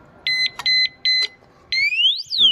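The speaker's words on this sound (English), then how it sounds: "It'll make a beeping noise." Electronic alarm on a bike disk lock fitted to a Royal Enfield motorcycle, sounding three sharp, evenly spaced high beeps followed by a rising and falling warbling siren tone, loud and close.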